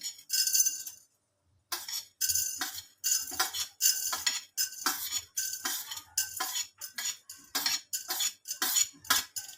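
Coriander seeds dry-roast in a hot bowl set on the gas for homemade pav bhaji masala, heard as rapid, close metallic scraping and clinking of a spoon against the pan in irregular bursts after a short pause.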